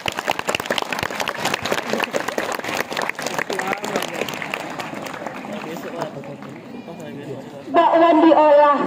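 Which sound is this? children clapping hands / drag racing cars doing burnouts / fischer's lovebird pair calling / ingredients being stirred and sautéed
children clapping hands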